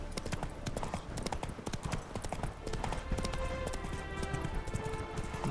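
A horse running at speed in The Witcher 3, its hooves beating out a fast, continuous clip-clop rhythm close up, with a faint musical drone underneath.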